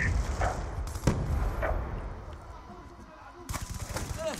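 Gunfire and explosions in a Call of Duty match sound fairly quiet: scattered sharp shots, then a rapid burst of fire near the end, while someone comments in French.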